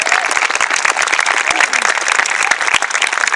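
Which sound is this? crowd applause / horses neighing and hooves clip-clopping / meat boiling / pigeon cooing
crowd applause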